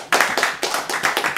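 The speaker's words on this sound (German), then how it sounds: "Ja, Applaus!" A few people clap briefly in a room after a 3D-printing demonstration, giving a short run of close, uneven hand claps.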